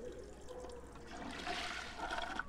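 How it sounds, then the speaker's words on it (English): A shower runs in The Sims 4, a steady hiss of falling water that grows slightly louder toward the end, with no talking. "Hey, cold shower, cool down."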